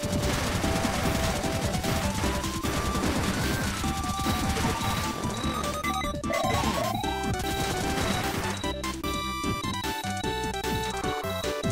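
Machine gun fire in the video game Cave Story+, rapid repeated chiptune-style shots over busy game music and crashing impact effects, continuous and loud.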